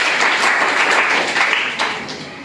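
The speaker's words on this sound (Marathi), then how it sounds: "याच्यासाठी परत एकदा टाळ्या वाजवायच्या" Clapping from an audience rewarding a correct answer at a school quiz competition, a dense, steady burst of many hands that fades slightly toward the end.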